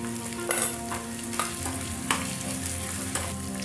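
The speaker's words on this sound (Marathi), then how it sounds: "जिरं टाकून घेऊ।" Cumin seeds and bay leaves frying in hot oil for mutton sukka: a continuous bright sizzle with a few stirring scrapes and clinks on top, close and fairly loud, no talk.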